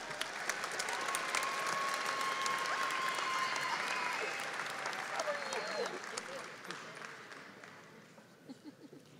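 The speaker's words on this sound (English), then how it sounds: "Let's honor these graduates, please, with a round of applause." A university commencement audience applauds graduates at Angelo State, dense sustained clapping filling a large hall with some faint voices, gradually thinning and fading toward the end.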